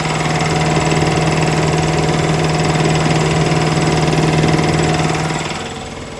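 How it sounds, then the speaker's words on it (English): A small American-made American Airworks air compressor of about 3.5 CFM runs aboard a boat, giving a loud, steady mechanical drone with a constant low hum for several seconds before easing slightly at the end. "This is our American-made American Airworks compressor."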